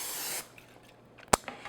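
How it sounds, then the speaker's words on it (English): Non-stick cooking spray hisses into a cheesecake pan in a soft burst that stops abruptly, then a sharp click and a few faint taps follow in a quiet kitchen. "I'm just going to spray it today with one of these non-stick sprays"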